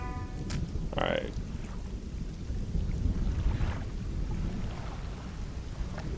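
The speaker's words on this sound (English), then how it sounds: "Some booming thunder." Deep, rumbling thunder rolls steadily through a stormy scene in the fishing game Dredge, with a brief higher tone near the start and a low continuous roar underneath.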